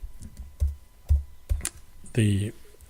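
A few sharp, separate clicks of keyboard keys spaced across the moment, followed by a short burst of voice.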